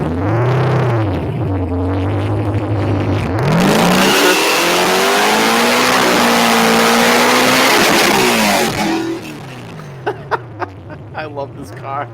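A car engine revs hard and accelerates loudly up close for several seconds, its pitch climbing and sweeping, then drops away to quieter bursts as voices speak over the tail end.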